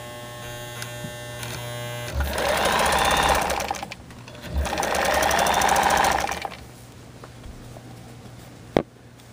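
A 1958 Kenmore 117.841 vintage sewing machine stitching in two steady runs of rapid mechanical whirring and chatter, each a few seconds long, with a brief pause between them and a sharp click near the end.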